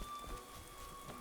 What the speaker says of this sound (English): I love that it's raining,